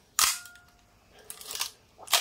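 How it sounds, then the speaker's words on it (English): A Nikon F2A Photomic film camera fires its shutter at 1/25 second, giving a sharp mechanical snap followed by further clicks from the film advance, loud and close with no talking. "Quite a loud camera."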